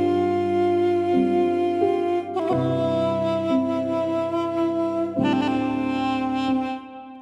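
A sampled duduk from a Shreds of Sampling library plays an ornamented melody over sustained low pads and layered accompaniment in an anime-style arrangement. Phrases shift at a few points, with no talking.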